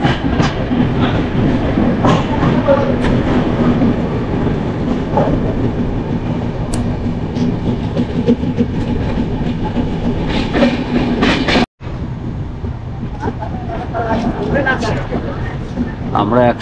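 Train noise at Bardhaman station: a steady, loud rumble of rail carriages with faint clicking wheel beats, broken by a brief cut near the end, with voices talking underneath.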